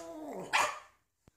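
A dog gives one sharp, close bark after a low whine-like tone, then falls silent apart from a faint click near the end.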